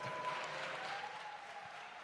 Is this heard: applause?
yes